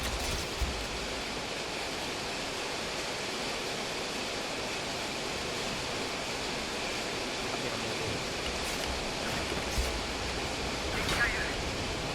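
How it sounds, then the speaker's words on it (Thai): Rain leaking into a gaming headset microphone during a Valorant match gives a steady, dense, loud hiss that stays constant throughout. "เสียงฝนเข้าหูฟัง"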